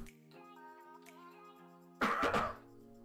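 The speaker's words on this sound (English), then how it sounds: "Starting with a cough." One short, harsh cough rings out after a quiet stretch with a faint steady tone in the background.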